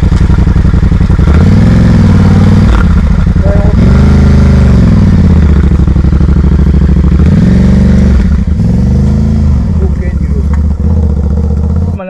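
A touring motorcycle stuck in deep mud on a road in Congo revs loudly and repeatedly while people push it, the engine rising and falling in close, continuous surges with voices mixed in.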